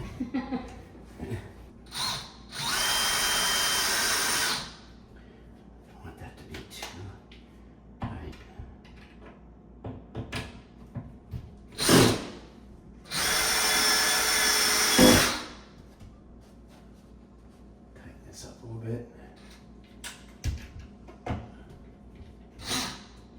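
Power drill driving new screws into a corner shower frame during installation, two sustained whirring bursts of a couple of seconds each, close by, separated by clatter, handling noises and brief quiet talk.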